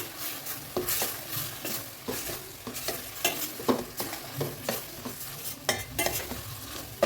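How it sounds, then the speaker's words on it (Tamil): Homemade chili powder and kulambu masala powder fry in hot oil while a spoon stirs them. Steady sizzling comes with repeated scraping strokes against the pan, close and alone with no voices. "இந்த மாதிரி மிக்ஸ் பண்ணிவிடுங்க. மசாலா அப்படியே அந்த ஆயிலில் வதங்கணும்."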